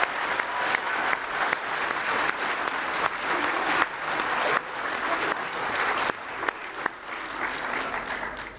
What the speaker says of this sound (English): Let's give a round of applause for the graduates standing before us.